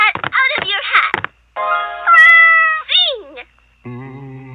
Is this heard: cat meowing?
yes